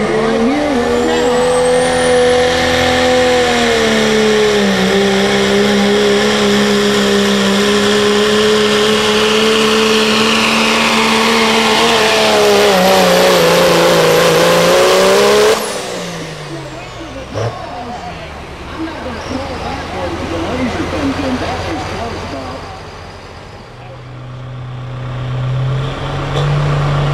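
A pro street diesel truck in a truck pull at Bluegrass Pulling in Brandenburg, Kentucky, revs loud and sustained for about fifteen seconds, pitch climbing under strain, then cuts off abruptly, leaving crowd noise and a lower idle; an announcer talks underneath.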